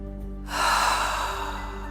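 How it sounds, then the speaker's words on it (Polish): One deep belly breath: silence, then a long, close, airy breath that swells quickly and slowly fades over a faint steady hum. "weź kilka głębokich oddechów z brzucha"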